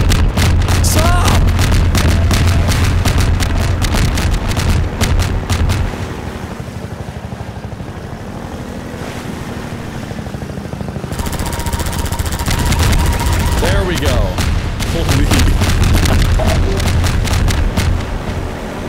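Dense, continuous gunfire and explosions from the video game Half-Life 2 roar loudly throughout, rapid crackling bursts over a rumbling low boom, with a voice talking over parts of it.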